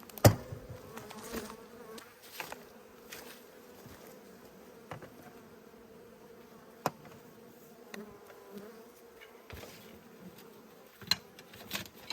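Honey bees buzz in a steady, close drone as late-winter hives are opened with smoke for inspection, with scattered clicks and knocks of equipment on top.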